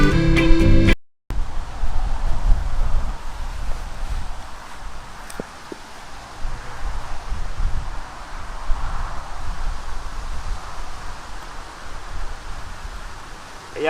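Outdoor wind blowing steadily across a microphone during a themed course outing, a continuous low rumbling buffet with gusts rising and falling, after a brief clatter at the start.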